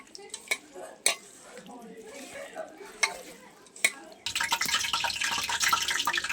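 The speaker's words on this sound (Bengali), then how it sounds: "চলো এবার মেখে নিই।" A few soft slaps and squelches of cornflour, egg and salt batter being mixed by hand, followed by a denser, continuous wet squishing as the mixing picks up, close and fairly clear.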